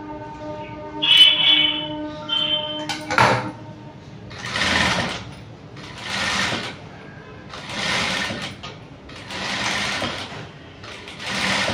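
A sewing machine stitching a princess cut blouse starts with short whirs and clicks, then runs in a steady rhythmic series of fast stitching bursts, close and clear.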